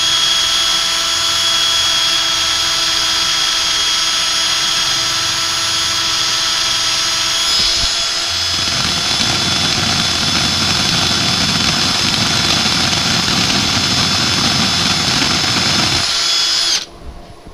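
A power sander works over a lacquered wooden piece, a steady loud whine that holds from start to finish, with a heavier low rumble swelling in from about eight seconds as the pad presses harder, then cutting off just before the end.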